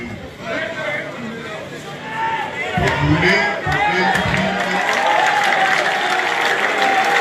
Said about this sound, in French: Les acclamations qui fusent,